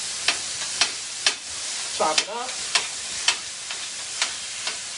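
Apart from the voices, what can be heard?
ground beef sizzling in a pan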